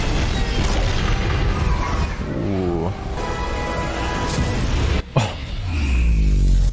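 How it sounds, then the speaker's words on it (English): Large explosion from the animated series Star Wars Rebels: a sustained deep rumbling roar with descending tonal sweeps and a sharp crack near the end, loud and continuous with no talking. "Why such a big explosion?"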